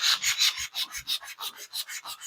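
A Fusion sanding pad rubs back and forth over a surface in about ten quick, even strokes, a close, dry scratchy rasp with no voices.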